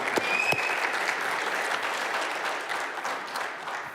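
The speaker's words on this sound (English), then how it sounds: "How about a nice round of applause for them?" Studio audience applauding a host company on a live morning show, a dense steady wash of many hands clapping, fairly close and sustained, tapering slightly toward the end.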